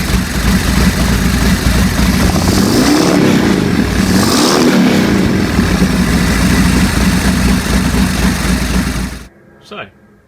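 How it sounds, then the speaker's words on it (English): Harley XL1200S Sportster motorcycle with CV carburetor issues running close by, a loud steady low engine rumble with a couple of swelling throttle blips, cutting off near the end before a brief faint sound. "let's just see if I can start the bike and just check that throttle slide is still working"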